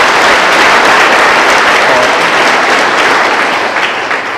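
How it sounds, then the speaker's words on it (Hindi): An audience at an event honoring Paralympic champion Devendra Jhajharia breaks into loud, dense applause that holds steady and then begins to taper off near the end. "तो स्वागत करो एक बार तालियां बजा"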